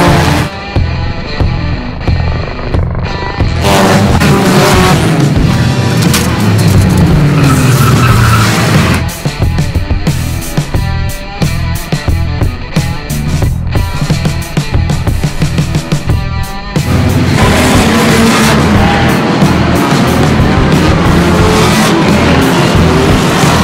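Race cars in a competition event roar loudly together as engines rev and shift, with repeated sharp tire squeals and skids across the track, the dense engine noise pausing briefly before surging again.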